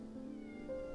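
A cat in the game Strange Antiquities gives a single short, soft meow that rises slightly at the end, quiet and close against a faint low ambient hum.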